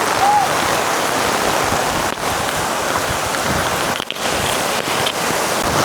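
Heavy rain pours down in a dense, even hiss of countless drops, loud and unbroken throughout with no voices.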